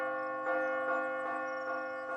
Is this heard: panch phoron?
no